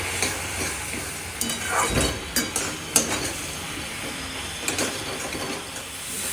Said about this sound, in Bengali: এবার এটাকে ভালো করে কষিয়ে নিই।